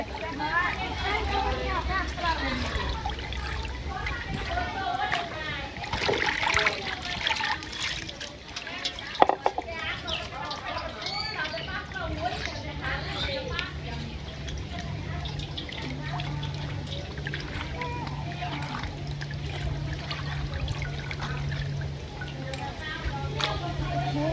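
Meat is washed in water, with continuous splashing, trickling and dribbling up close and a brief louder slosh midway, while voices talk over it.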